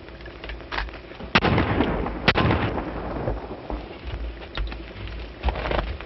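Sharp gunshots from a 1933 western film crack out over a noisy, crackly old soundtrack, one near 1.3 seconds and a louder one near 2.3 seconds.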